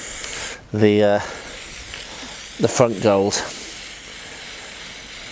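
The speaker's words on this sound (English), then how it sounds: "and we'll spray paint" A spray paint can hisses out in two short bursts, near and fairly loud, with a brief spoken phrase between them and steady wind noise outdoors.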